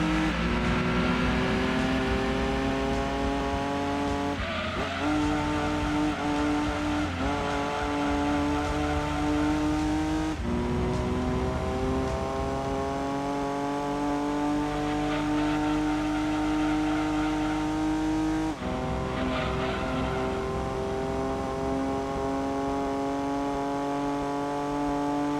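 A turbocharged car engine in Gran Turismo 2 drones steadily at high revs throughout, with brief dips and rises at gear changes, loud and continuous with no talk.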